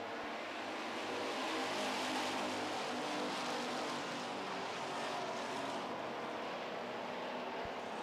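Street stock race cars roar around an oval track in a feature race, a dense, steady engine din that stays loud and continuous throughout with no voices.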